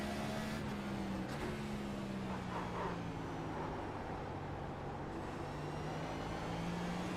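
A damaged race car in a stock-car racing game drives on with a steady engine drone and faint tire and road noise under it, even and continuous throughout.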